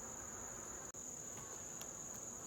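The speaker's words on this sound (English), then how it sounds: "loud buzzing going around, and that's these European hornets" Steady high-pitched buzzing from European hornets flying around beehives. The drone is faint but continuous, with a brief dropout near the start and a few soft flickers later on.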